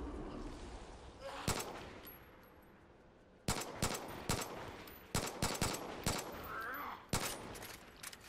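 Pistol gunfire at zombies in Far Cry 5's zombie mode, a series of sharp separate shots, some in quick pairs, over a low game background and occasional voice.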